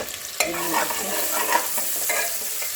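Chopped onions frying in a pan for a winter vegetable dish, with close, steady sizzling and hissing, a sharp clack of a spoon against the pan near the start, and scraping stirring throughout, with no talk.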